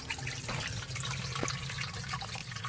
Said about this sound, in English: You see that water coming in?